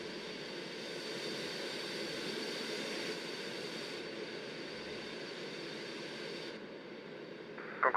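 A Concorde jet taxis toward the runway at Heathrow in the X-Plane 11 flight simulator, giving a steady, continuous engine roar and hiss that stays even throughout, with no talking.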